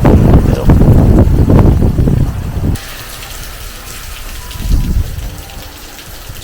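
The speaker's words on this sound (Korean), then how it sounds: "결국 정말 때려 붓는 듯한 폭우가 순식간에 내리기 시작했습니다" A torrential downpour of heavy rain roars loudly and steadily close by, dense hiss and splatter drowning everything, then a quieter sheltered wash of rain with a brief swell.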